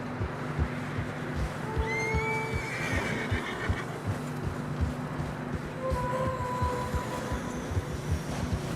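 Horses in fresh snow in Red Dead Redemption 2 whinny and neigh over a steady background rumble and rhythmic plodding, with several calls rising above the noise.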